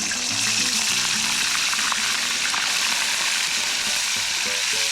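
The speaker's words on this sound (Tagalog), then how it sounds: "Pwede itong prito na lang to, no? Prito. Ito. Yan, mainit na yung mantika." Marlin sizzles and crackles in hot cooking oil at an outdoor campsite beside a Suzuki minivan, a loud, continuous close-up hiss with a faint tonal background.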